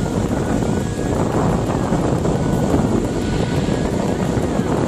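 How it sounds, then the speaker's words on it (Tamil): A homemade air cooler runs with its motor fan and water pump switched on, giving a steady, loud, close whooshing whir that holds constant throughout without pauses. "இப்ப நம்ம வாட்டர் பம்புக்கும் மோட்டாருக்கும் பவர் சப்ளை கொடுத்து செக் பண்ணலாம்"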